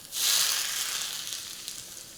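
Hot ghee tempering poured onto coconut chutney hits with a sudden loud hiss that settles into a steady, gradually fading sizzle, close by with no talking.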